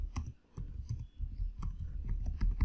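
Typing on a computer keyboard sounds as a handful of soft, close key clicks at an uneven pace over a low background hum.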